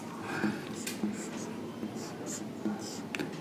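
Chalk or marker strokes on a board during a chemistry lecture, a series of short scratchy taps and squeaks spaced irregularly, faint against room tone.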